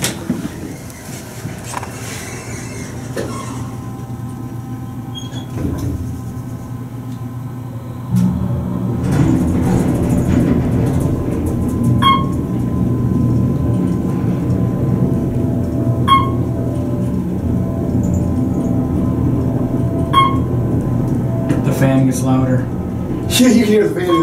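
An Otis hydraulic elevator motor running in a parking garage as the car rises, a steady low hum and rumble that grows louder partway through, with faint clicks and beeps on top.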